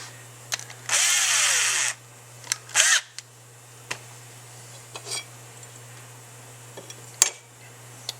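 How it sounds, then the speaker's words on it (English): Short bursts of a power drill with a worn, dull bit boring into a military fuel pump, two main whirring bursts near the start followed by scattered clicks and knocks of handling on a workbench. "It helps to have a nice sharp drill bit"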